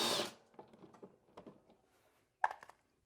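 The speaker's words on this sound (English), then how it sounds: "we'll take our 1/2-inch compact Kobalt impact gun, attach this right into the socket," A 1/2-inch compact Kobalt impact gun spinning off a lawnmower blade bolt: a loud initial whir followed by a series of quieter rattling hammer bursts, ending in a sharp, brief final rattle, close and alone.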